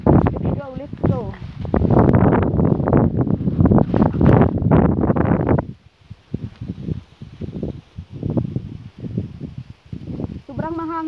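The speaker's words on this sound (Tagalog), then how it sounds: "Sobrang mahangin ngayon guys," Strong wind buffets the microphone outdoors on a motorcycle ride, a steady heavy roar, while someone talks loudly over it and the gusts drop to a lighter rush partway through.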